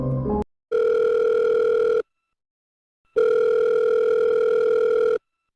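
Telephone ringback tone heard loud and close: two long, steady electronic tones separated by a short silence, preceded by a brief burst of noise.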